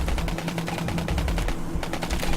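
Rapid, continuous automatic gunfire from the video game Trash TV, dense and loud with no pauses across the short stretch.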